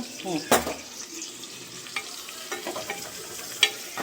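Vegetables for a veg biryani sauté in a hot pan, giving a soft steady sizzle with occasional louder stirring scrapes and clinks, close and alone.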